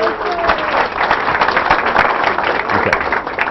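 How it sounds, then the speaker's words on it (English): Audience applause for a speaker at a talk, a steady dense wash of many hands clapping throughout, fairly loud and close with no pauses. "that was a therapist's applause"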